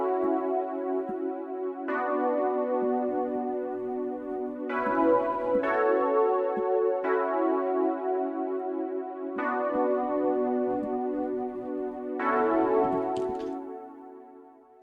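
A polysynth plays a chord melody through EQ, flanger and reverb effects, with sustained layered notes changing every second or two over about fifteen seconds, alone and clear.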